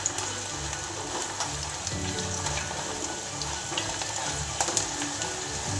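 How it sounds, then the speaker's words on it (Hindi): Homemade aloe vera hair oil cooks in a pan, giving off a steady, dense sizzle and crackle with small pops throughout, close and even in level, with no talking. "इसको हम 5 से 10 मिनट के लिए सिर्फ पकाएंगे।"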